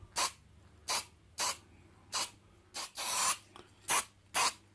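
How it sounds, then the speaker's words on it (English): High-fill spray primer hisses from an aerosol can onto parts during restoration of a 1931 AWA 45E Radiola radio, in about eight short, evenly spaced bursts, one a bit longer, close up with no talking. "I've got a high fill spray primer, so I just hit them with those"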